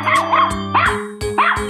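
A dog barks three or four times at a steady pace, close and clear, each bark a sharp bow-wow with a slight whine, and no voices over it.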